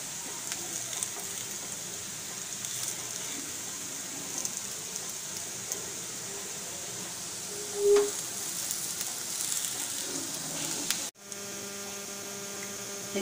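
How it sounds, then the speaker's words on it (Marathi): Beetroot and potato cutlets shallow frying in oil give off a steady, soft, hissing sizzle that runs unbroken, with one brief faint clink partway through. No one speaks. "हे छान शॅलो फ्राय झालेले आहे."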